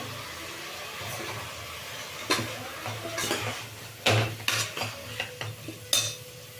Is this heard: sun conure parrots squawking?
no